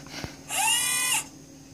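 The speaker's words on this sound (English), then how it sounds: "Power drill, I think." A short, high-pitched mechanical whir rises, holds steady for under a second, then cuts off, like a small power drill spinning briefly.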